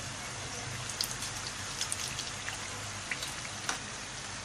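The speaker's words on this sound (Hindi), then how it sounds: "तकरीबन हमने हल्की आंच पे इसे 5 मिनट हमने फ्राई किया है।" Stripey samosas fry in oil on low heat, a steady dense sizzle and crackle with scattered pops throughout, close and continuous without talk.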